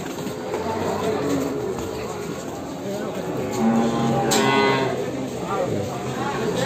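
Cattle at the Gombong livestock market in Indonesia, lowing moos rising out of a dense, noisy crowd, with people talking throughout and general market bustle close around.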